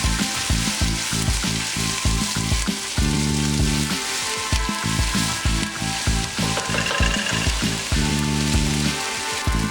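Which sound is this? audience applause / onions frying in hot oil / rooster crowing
onions frying in hot oil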